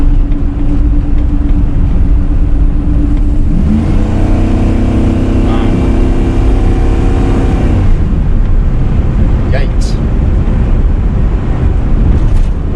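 A car engine revs hard during a test drive away from a Sunoco gas station, rising from a low idle into a loud, sustained climb around the middle and then easing off, with wind buffeting the microphone throughout.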